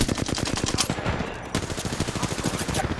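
Rapid automatic gunfire from a firefight in the battle royale shooter Apex Legends, dense bursts of close, loud shots rattling nearly continuously with a brief lull near the middle.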